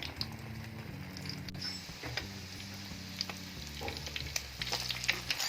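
Beef shami kebabs frying in a pan, a steady low sizzle with soft crackles and patter throughout, fairly quiet and without talk.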